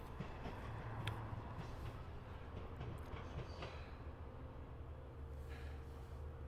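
A Long Island Rail Road train passing through the JJD interlocking at Mastic-Shirley, heard as a steady, fairly distant rumble with scattered wheel clicks and faint metallic squeals across the clip.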